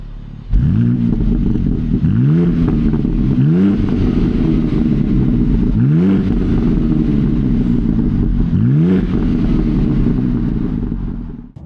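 BMW G87 M2 engine with the exhaust mode switched on, revving in several rising blips over a steady loud drone, close by and continuous throughout.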